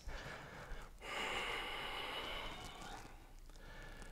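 Deep yoga pranayama breathing, one long airy inhale and exhale, soft and close with a breathy hiss.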